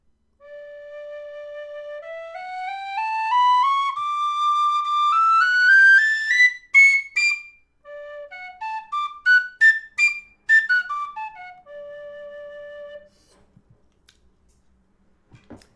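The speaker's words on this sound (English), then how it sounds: "Now, scale on the Thornton Hybrid." On a Thornton Hybrid high D wood whistle, a clean ascending scale of sustained notes climbs step by step into the high register, followed by quick tongued notes and a descent back down, played solo and close.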